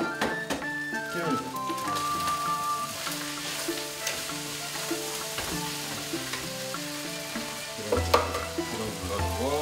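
Beef fried rice stir-fries in a hot pan with a steady sizzle and frequent scraping stirs, while music plays over it throughout.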